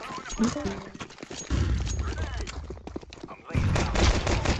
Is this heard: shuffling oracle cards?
no